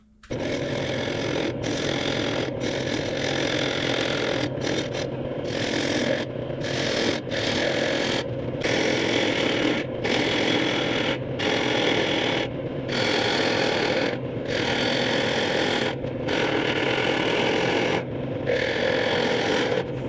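A wood lathe turns a large salad bowl as the tenon is cut away, giving a continuous rough scraping and rasping whir, interrupted by repeated short pauses as the tool lifts off the wood.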